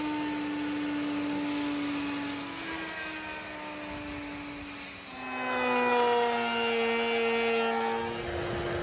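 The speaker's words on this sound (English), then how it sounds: "So I'll get this cut to size and then router the bottom" A wooden board is being cut to size and routed for drawer tops in a Jeep camper build; a steady, loud power-tool whine runs throughout, dipping briefly and rising again, with no talking.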